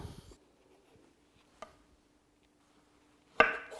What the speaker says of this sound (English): We slice our pear to very skinny slices.